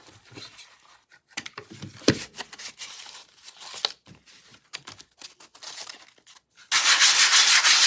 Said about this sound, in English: just a really light sanding on that